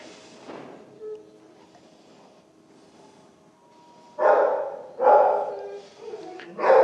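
A stray German Shepherd and Anatolian Shepherd mix puppy barks several times, close and loud. Quiet low sounds come first, then a cluster of sharp barks near the end.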